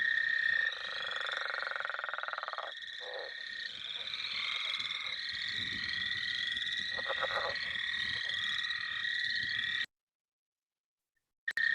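A frog species of concern in West Virginia, found along the Ohio River, gives a long, steady snoring croak that continues unbroken for about ten seconds. The call is fairly loud and close, with no voices over it, then cuts off abruptly.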